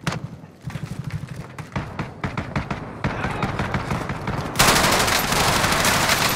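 Call of Duty gunfire crackles in rapid bursts of automatic fire and single shots, growing denser and louder toward the end into a continuous loud barrage, with some voices underneath.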